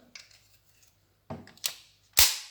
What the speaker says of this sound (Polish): strzał kontrolny, działa.